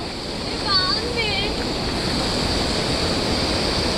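A monsoon waterfall near Vellamalai tunnel in Valparai rushes in a steady, loud broadband roar, with a couple of brief bird chirps early on.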